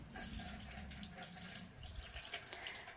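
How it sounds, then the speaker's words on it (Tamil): Water is poured over a vel, a sacred spear, to clean it during home worship, making a soft continuous splashing trickle close by. "நெக்ஸ்ட்டு தண்ணி ஊற்றி இது எல்லாத்தையும் நம்ம இப்போ சுத்தப்படுத்திக்கலாம்."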